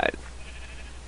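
A short sheep bleat in a modded Minecraft world, one brief nasal call at the start that quickly fades into a low steady game hum.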